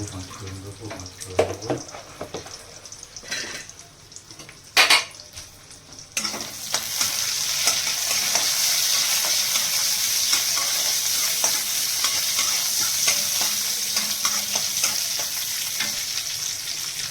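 Panch phoron spices and onion fry in a pan, starting with scattered clinks and stirring before a loud, continuous sizzle takes over and holds steady to the end.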